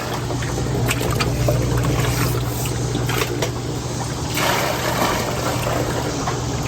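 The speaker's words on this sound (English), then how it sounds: "First step is to get some water in our bucket." Fresh water pours steadily into a bucket on a dock, with a constant gushing fill and a few splashy bursts along the way, close and alone with no talking.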